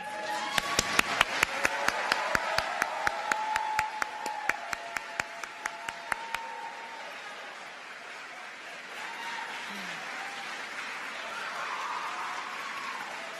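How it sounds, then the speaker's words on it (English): Audience applauding New Mexico state legislators at a reproductive rights event, sharp rhythmic claps in a steady run that thins out after about six seconds, followed by quieter room noise. "we are going to recognize them by applauding how incredibly successful they've been at investing and protecting women's health"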